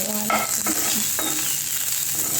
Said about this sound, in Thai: อันนี้กระเทียมเจียวกับมันหมู